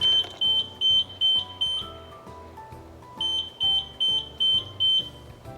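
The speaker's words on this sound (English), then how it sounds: "So it's beeping 5 times and then it's pausing and then it's beeping 5 times again." A portable mobility scooter's high-pitched electronic beep repeats five times in a steady rhythm, pauses, then sounds five more times, clear and close.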